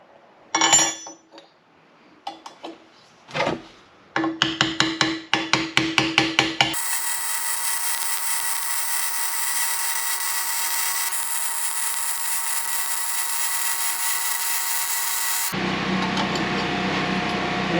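Metal exhaust pipe on a Toyota 4Runner being beaten into place, sharp ringing clanks starting sparse then quickening into a rapid run of blows, followed by a long loud steady power-tool whine, with no talking.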